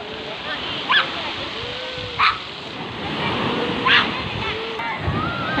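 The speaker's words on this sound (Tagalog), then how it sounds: "kung makikita natin ang laki ng alon sa dagat" Big sea waves wash steadily onto a beach in a continuous roaring surf, with a few short voices and shouts rising briefly over the noise.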